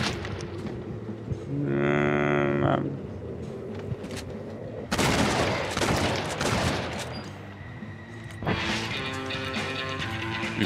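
Gunfire in the Undead Nightmare video game, arriving as dense bursts of loud shots in two or three clusters separated by quieter stretches, with game sounds and a voice underneath.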